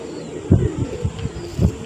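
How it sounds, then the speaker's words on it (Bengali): A tournament racing pigeon coos in a few soft, low throaty pulses, close by and fairly loud, repeating roughly every half second with quiet background between. "দেখো এই হচ্ছে পায়রাটা"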